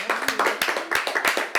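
A TV studio audience claps to welcome a guest, with dense, rhythmic, close applause continuing steadily for a moment.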